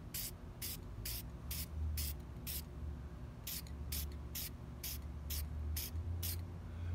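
An aerosol spray can hisses over a sheet of cardboard in about a dozen short, evenly spaced bursts, each sharp hiss separated by brief pauses over a low background hum.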